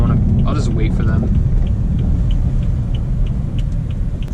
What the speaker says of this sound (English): So that whole acceleration, that was in comfort mode, actually